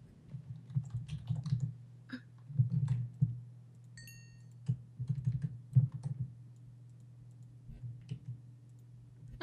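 Computer keyboard typing during a Minecraft UltraHardcore session, with bursts of rapid clicking keystrokes spread through the clip over a low steady hum, fairly close and moderately loud.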